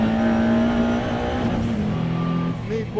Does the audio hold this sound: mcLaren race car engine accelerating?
yes